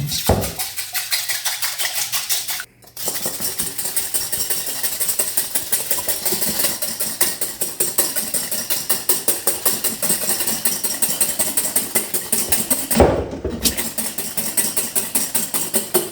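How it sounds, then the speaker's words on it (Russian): Egg whites whisked by hand into stiff white foam, a fast steady metallic rhythm of whisk against bowl continuing throughout with two brief pauses, close and fairly loud. "Я белки буду взбивать вручную до пышной белой пены."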